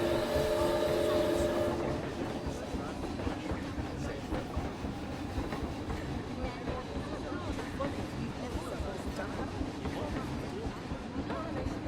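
A steampunk-style theme park ride train runs steadily with a continuous rumbling roll and rhythmic clatter of wheels on track, loud and close, with faint voices in the background.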